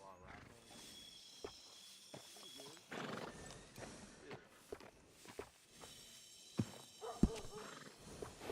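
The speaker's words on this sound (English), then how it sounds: "And a fine new horse." A horse in Red Dead Redemption 2 snorts and whinnies amid soft hoof clops, quiet and intermittent under a faint game ambience.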